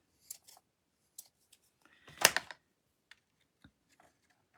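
Scissors snip at a ribbon bow on a handmade card, a few short quiet cuts scattered across the moment with one denser burst of rapid snipping in the middle, close and alone.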